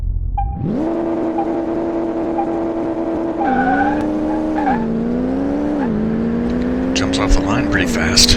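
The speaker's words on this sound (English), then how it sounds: "So yeah, I'm already skidding." Car tires on sport rubber skid and squeal in Car Mechanic Simulator 2018 during a hard launch, giving a loud, sustained whining tone that steps down in pitch several times over a steady engine drone.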